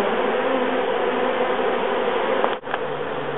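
A honeybee swarm buzzes steadily around a hive as a dense, continuous drone, close and fairly loud, with a brief dip near the end.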